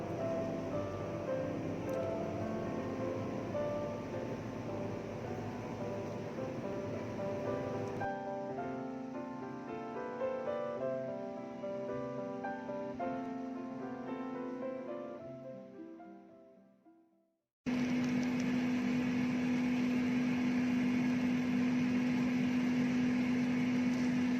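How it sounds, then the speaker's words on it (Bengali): An air fryer set to 180 degrees runs with a steady whirring fan hum and a constant drone, continuous and close, with a short drop to silence partway through before it resumes. "আর আমি আমার এয়ার ফ্রায়ারে দিচ্ছি 180 ডিগ্রিতে 5 মিনিটের জন্য।"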